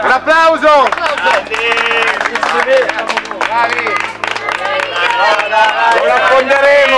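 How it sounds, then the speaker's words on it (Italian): Crowd clapping and cheering at a cardboard boat race, rhythmic applause mixed with loud shouting voices and babble close by. "Un applauso! Un applauso!"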